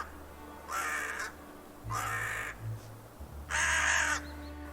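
A crow caws three times in slow succession, each harsh call lasting about half a second, fairly close and loud over a low outdoor rumble.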